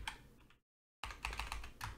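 Keys clacking on a computer keyboard during coding, quick close taps, a short burst, a brief gap of silence, then a denser run of keystrokes.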